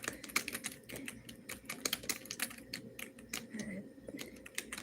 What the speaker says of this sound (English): let me type this in the description